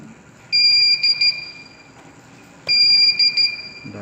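A Fire Bird V robot with a faulty right motor gives two long, loud electronic beeps, each stuttering briefly near its end, with a quiet gap between them.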